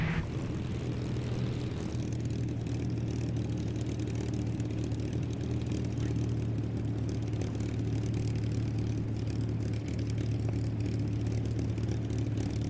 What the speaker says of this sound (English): That engine. There's a little bit of backfiring going on there.